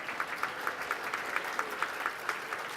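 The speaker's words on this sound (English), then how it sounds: "There should be more applause about that." Applause at a charity sports gala, a modest room of hands clapping with a steady, fairly soft patter and a few sharper claps standing out at regular intervals.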